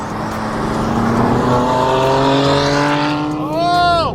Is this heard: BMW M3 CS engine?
yes